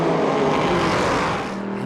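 A race car in a Michelin Le Mans Cup race at Spa-Francorchamps passes close by near Eau Rouge, its engine a loud, steady roar that fades slightly toward the end.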